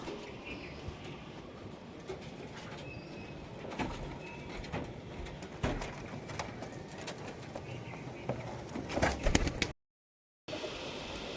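Pigeons, including a red-eyed Imandin bird, coo in soft repeated phrases close by, with sharp wing claps and flutters as they are let go, before a brief dropout near the end.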